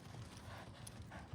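Horse hooves clip-clopping at a steady pace, faint and distant under a low ambient rumble.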